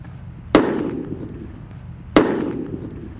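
Two mercon firecrackers go off in the ground in the rain, each a sharp loud bang with a short fading rumble, spaced about a second and a half apart, near and without talk.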